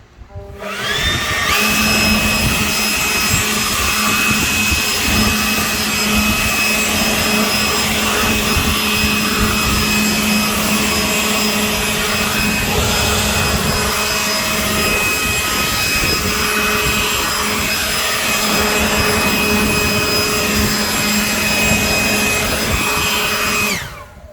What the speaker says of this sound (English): Let me get my leaf blower, I'll dry this off, and then we'll compare it to the other wheel.